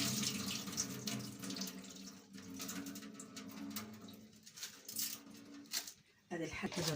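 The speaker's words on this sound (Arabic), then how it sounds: "بصوا يا حبايبي كده غسلناه غسله حلوه، حطينا الرز في الحله" Rice being rinsed in a cooking pot under running tap water: a steady, close splashing rush that surges and dips as the grains are swirled, with a brief break near the end.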